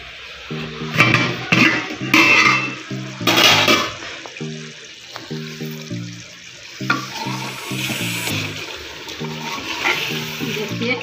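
Mutton sizzles and fries in a covered pan, with steady crackling and hissing broken by clanks and scrapes of stirring and the lid being handled, close and fairly loud.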